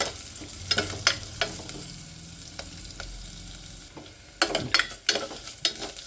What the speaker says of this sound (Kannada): ಹೆಸ್ರು ಬೇಳೆ ಫ್ರೈ ಆಯಿತು